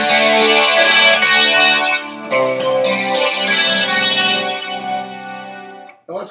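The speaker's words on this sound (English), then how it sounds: "The first patch I've got programmed in is a matchless with some chorus and some delay on it." Electric guitar from a 1986 Hamer TLE played through a Line 6 AX2 Matchless patch with chorus and delay, loud sustained chords shifting once midway, then a sudden stop and a brief restrike.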